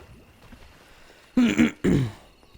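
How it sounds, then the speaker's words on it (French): After a quiet stretch, two short bursts of coughing and throat clearing sound close by, separated by a brief pause. "Excusez-moi, j'ai un peu de la toux."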